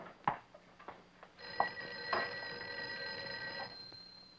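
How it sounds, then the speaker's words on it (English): An old telephone bell rings in short bursts with brief gaps between them, moderately close but fairly quiet, alone with no talking. "I think your phone is ringing"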